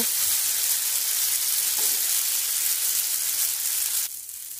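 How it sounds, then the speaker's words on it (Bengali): Chowmein noodles stir-fry in a frying pan with a loud, dense, continuous sizzle and hiss, a brief utensil knock early on, the sizzle dropping sharply just before the end, no voices. "এবার এই নুডলস বা চাউমিনগুলোকে আমি 2 মিনিট নেড়ে চেড়ে নেব।"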